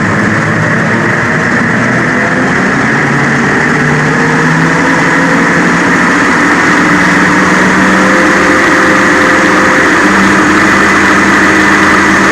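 Tractor engine driving a rotary cutter with freshly changed blades, running steadily and loud at close range as the RPMs are brought up, with a continuous low drone and mechanical whir throughout.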